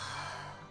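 A voice imitates a woman's heavy breathing while she sleeps, making one close, breathy, airy exhale that fades out.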